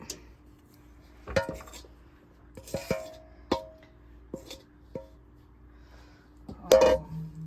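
A utensil scrapes keto buffalo-sauce bites out of a pan, with sparse metallic clinks and short scraping strokes spaced through otherwise quiet kitchen ambience.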